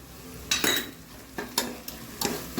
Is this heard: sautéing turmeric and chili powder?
yes